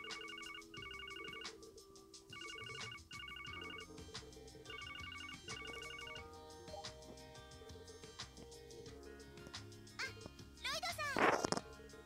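A phone ringtone in The Legend of Heroes: Zero no Kiseki repeats in short electronic bursts over game music, followed by a brief sharp high-pitched effect near the end.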